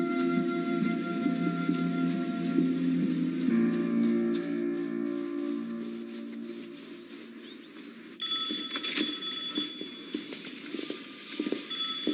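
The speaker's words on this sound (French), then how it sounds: "Matt, je viens d'avoir un coup de téléphone du superintendant de la maison de correction d'Eastfield." A telephone rings in a film scene, a steady electronic ringing that runs for several seconds at moderate loudness, with faint background sounds and no talk.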